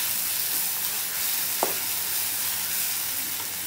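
Chopped eggplant for vangyache bharit being stirred in a frying pan, a steady close sizzle with one brief scrape of the spoon partway through, and no voices.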